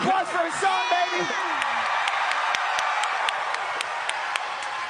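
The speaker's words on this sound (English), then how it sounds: "Round of applause for Hasan, baby." Crowd applause and cheering for Hasan at a live event, with whoops and clapping spread through a dense, steady roar; a voice shouts over the noise near the start.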